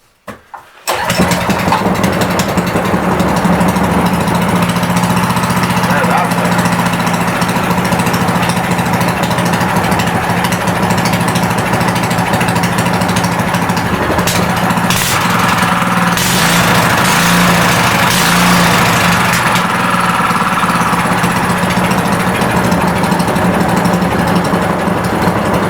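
A Honda GX160 minibike engine sputters to life, then runs continuously and loudly while its carburetor is adjusted, its speed wavering slightly over a long, steady stretch with no talk.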